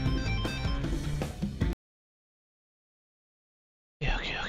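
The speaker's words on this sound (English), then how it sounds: "Oh, that's my phone." A phone rings in the video game Hi-Fi Rush, a bright electronic ringtone with rising and falling tones, heard in two short bursts on either side of a stretch of silence.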